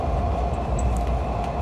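A cheap Thai overnight sleeper train runs along with a steady close rumble and faint rattles, heard from inside the carriage with no talking.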